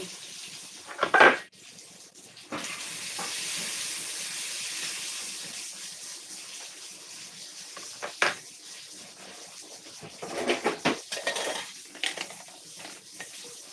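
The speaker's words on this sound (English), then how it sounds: "Clear the dishwasher." Dishes and cutlery are cleared from a dishwasher in a home kitchen, with clinks and clatters at irregular moments over a soft background hiss, some louder bursts of rattling toward the end.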